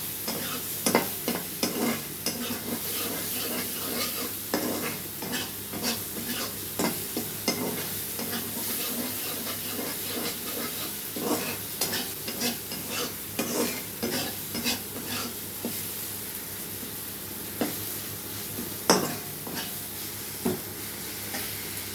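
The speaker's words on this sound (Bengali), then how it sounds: "ভালো করে কষিয়ে এবার আলু পাঁপড়কে কষিয়ে জল দিয়ে দেবো" Potatoes and papad are stirred and sautéed in hot oil in a pan. A steady sizzle runs throughout, with frequent scraping strokes of a spatula forming an uneven rhythm, close and fairly loud, with no talking.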